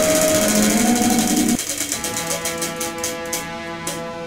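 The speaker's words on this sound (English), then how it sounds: "Spin that wheel." A toy spinning wheel in a Godzilla slime game whirs loudly, then slows into a run of rapid clicking ticks as it winds down, heard alone.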